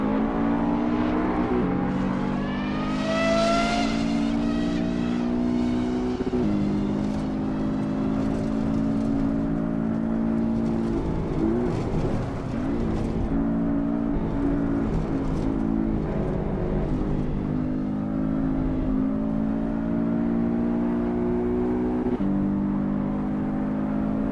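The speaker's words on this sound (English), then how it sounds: "Engine sounds pretty mid too" A loud, steady race car engine in a video game drones with harmonic whine, rising in pitch as it revs up and shifting through gears, continuous with no talking.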